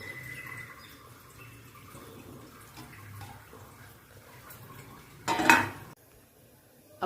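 Hot water poured into a pressure cooker pot holding country chicken, a sudden loud hissing splash lasting under a second after quiet kitchen background, then a clatter and near silence.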